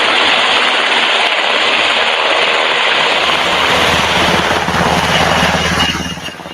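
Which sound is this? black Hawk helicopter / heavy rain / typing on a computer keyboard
black Hawk helicopter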